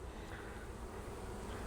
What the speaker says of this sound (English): there are so many bees in there